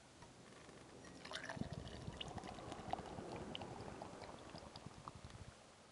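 Beer being poured from a just-opened can, a soft fizzing, gurgling stream of liquid that swells after a quiet start and runs steadily for several seconds, faint and close, with no talking.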